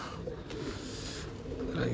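A champion pigeon in Multan coos softly and faintly at a distance, low murmuring calls against a quiet background, with a voice rising near the end.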